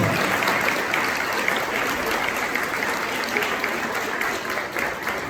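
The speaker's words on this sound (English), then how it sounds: "Yes, you can give them a round of applause, sure." Steady, even audience applause fills an elementary school spring band concert hall, many hands clapping continuously at moderate loudness without a break.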